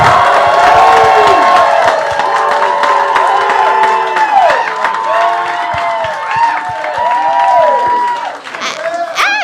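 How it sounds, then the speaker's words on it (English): A live crowd at a ringside roast claps, cheers and whoops for the Diamond Sheik, loud and close at first, with shouting voices rising over the clapping before it thins toward the end. "Clap it up right now if you want the Diamond Sheik"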